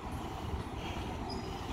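A train departs Keleti railway station in Budapest, its old-style IC passenger cars giving a steady, close, low rumble of wheels and carriages that fills the short stretch without a break.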